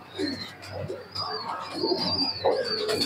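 Pigeons coo in soft, repeated throaty bursts close by. Chirps and background bird noise are mixed in.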